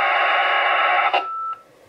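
A Yaesu FTM-100 radio receiving an APRS packet on the APRS frequency gives a loud, steady burst of data tone lasting about a second, followed by a short faint beep. No one speaks.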